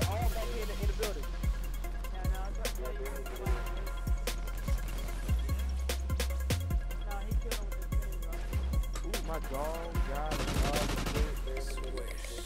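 A Trinity rocket strike and gunfire in a video game: rapid bursts of shots and sharp, heavy blasts crowd together in an irregular barrage, loud and close throughout.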